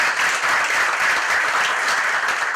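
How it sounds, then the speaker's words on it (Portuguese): An audience at a vaccination campaign anniversary ceremony claps in a thick, even wash of applause, sustained and moderately loud throughout without pause. "mais uma salva de palmas"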